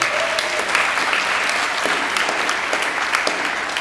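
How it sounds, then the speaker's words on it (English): A school-hall crowd at a congressional town hall in Inglewood breaks into sustained applause, a dense, even wash of many hands clapping that holds steady for several seconds without talk. "Can we have one applause for her?"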